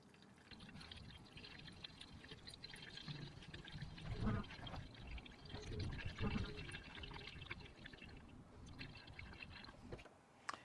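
Coolant is poured slowly from a litre container into a Renault Clio 1.2 16v, a quiet, continuous gurgling trickle and fill that swells and fades, with no talk.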